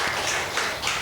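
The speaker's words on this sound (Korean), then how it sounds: "우리 하나님께 영광의 박수" Church congregation applauding together at a Korean worship service, a steady dense wash of hand claps lasting the whole moment with no voices over it.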